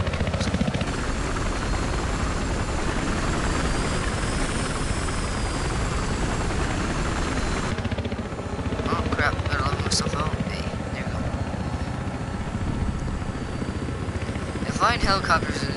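A helicopter in the video game Battlefield Hardline roars with a loud, constant rotor and engine drone, the tone shifting partway through as the flight changes, with scattered game sounds near the end.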